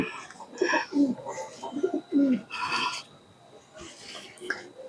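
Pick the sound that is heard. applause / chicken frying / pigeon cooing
pigeon cooing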